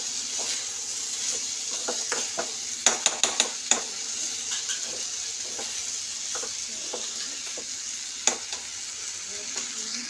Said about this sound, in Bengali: তো এটাকে হালকা করে এরকম করে মিশিয়ে নেব।